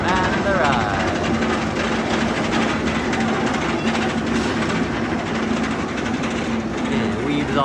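Batman the Ride roller coaster train at the Gotham City Park area rumbling past with a steady rolling roar and clatter, loud and continuous, with crowd voices and talk mixed in.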